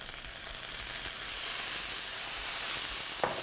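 Worcestershire sauce sizzles steadily in a hot pan while cooking a sweet potato shepherd's pie, a constant bright hiss with a small sharp spike near the end and no talk.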